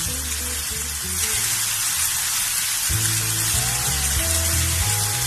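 Bean sprouts stir-fried in the oil left in a pan for a vegetarian mushroom dish, giving a steady close sizzle and crackle with occasional scraping as they are tossed, no talk.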